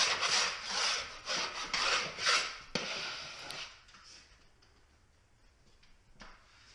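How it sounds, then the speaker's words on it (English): A 6-inch taping knife scraping quickly over a drywall wall before skim coating, several close rasping strokes for about three seconds, then a quiet room with one faint later scrape. "I'm just using my 6-inch taping knife just to go over it real quick"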